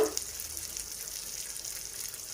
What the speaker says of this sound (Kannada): ಕಡಿಮೆ ಉರಿಯಲ್ಲೇ ಫ್ರೈ ಮಾಡ್ಕೋಬೇಕು